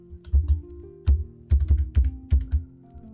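Keys tapped on a computer keyboard while entering the Alt 0176 degree-symbol shortcut: about seven or eight close, crisp clicks in short uneven bursts, with a low hum underneath and no talking.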